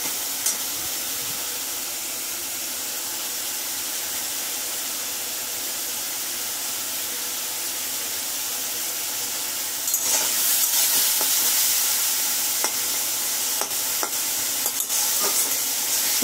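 Potatoes fry with salt and turmeric, giving a steady, close sizzle under a constant hiss, then stirring begins with scraping and sharp clicks of a utensil against the pan.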